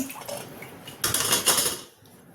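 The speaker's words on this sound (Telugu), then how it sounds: "గిన్నెలన్నీ తోముకుందాం" Dishes being scrubbed: clattering pots and utensils rub and knock together in a brief close burst, then the scraping fades out.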